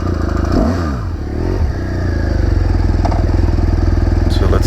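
BMW R1200GS motorcycle engine turning over and catching, a brief cranking sweep settling into a steady, loud, close idle throb with light mechanical clatter, no one talking.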